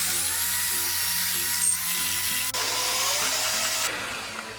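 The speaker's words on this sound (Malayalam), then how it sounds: "ഐസിങ് ഷുഗറും കൂടി ഇട്ട് ബീറ്റ് ചെയ്ത് കൊടുക്കാം." An electric hand beater whips cake batter for a Swiss roll with icing sugar and egg whites, giving a steady, loud motor whine that shifts pitch a few times while running continuously.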